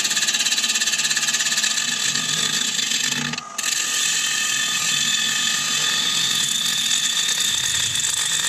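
A 5/8 bowl gouge trues up an ebony bowl spinning on a woodturning lathe at about 1000 RPM, giving a steady close whirring, scraping cut that runs almost without break, dipping briefly in the middle.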